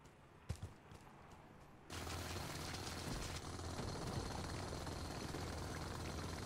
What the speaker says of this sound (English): They have really weird drill sound going into some of these voxel materials.